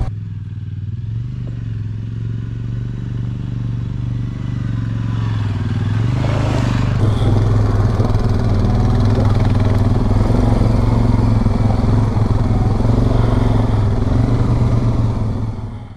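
Suzuki King Quad 750 ATV engine droning steadily on a rough, tight mountain trail in Idaho, a continuous loud motor growl with clattering suspension and gravel noise that swells as it draws closer.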